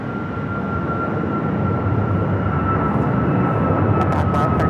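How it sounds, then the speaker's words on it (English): A Delta Airbus A330-300 arriving at Phoenix Sky Harbor produces a continuous loud jet roar with a sustained whining tone, steady throughout and fairly close, with faint radio-like chatter near the end. "Got that Delta A330-300 coming in from Detroit, Michigan."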